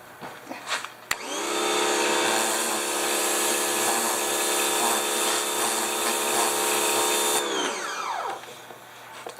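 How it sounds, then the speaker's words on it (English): A small Craftsman pressure washer runs steadily for about six seconds while cleaning rocks, a loud continuous motor-and-spray drone with a high whine that starts abruptly and then winds down. "we'll see what this little Craftsman pressure washer will do with it"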